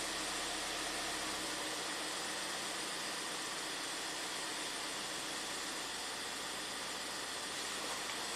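A Ford EcoBoost engine idles steadily during warm-up, a constant broadband hum and rumble with an even texture and no talk over it.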